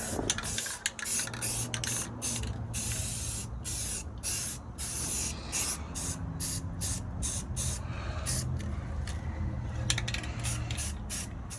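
Aerosol spray paint hissing onto fresh welds on a steel boat trailer during a flatbed conversion, loud close bursts of spray in a rapid series of short pulses and longer sprays, no talk.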